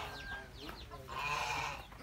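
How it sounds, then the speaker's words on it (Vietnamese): Free-range chickens on a mango orchard farm in Cam Ranh, clucking in short overlapping calls at moderate distance, with a denser burst of bird sound midway. "Gà quá trời luôn các bạn."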